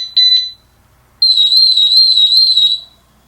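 A ColorAlti 2 skydiving altimeter sounds its audible alarm: two quick, shrill beeps, then a pause, then a single long, steady high tone, loud and clean against silence.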